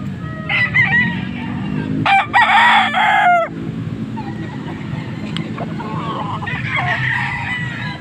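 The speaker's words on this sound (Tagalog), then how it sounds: "Maraming manok na dala" Many roosters at a gamefowl sale crow loudly and overlap, with a strong crow near the start, clucking throughout and a further crow toward the end.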